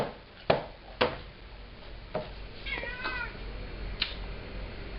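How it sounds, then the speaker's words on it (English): Several short meows from a cat near breakfast, with faint clinks and knocks in between, over a quiet room background. "The cat goes meow,"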